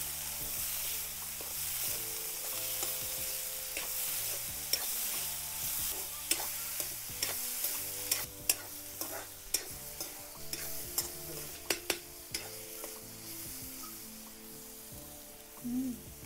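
A steady sizzle comes from a pan of stir-frying pumpkin leaf stalks seasoned with salt. A spatula scrapes and taps the pan in irregular strokes, close and moderately loud.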